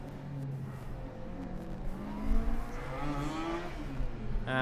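A Formula Student race car passes on the endurance track, its engine rising and falling in pitch as it accelerates by at moderate distance, steady and unaccompanied by talk.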